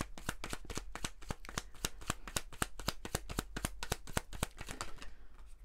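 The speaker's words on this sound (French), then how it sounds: "on va prendre quelques autres cartes pour compléter" Cards are drawn and shuffled from a deck, a fast, steady run of crisp riffling flicks heard up close for several seconds before fading out, with no talking.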